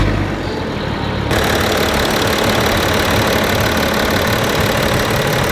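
A diesel truck engine idles close by with a loud, dense, knocking rumble. The sound gets noticeably louder and brighter after about a second and then holds steady.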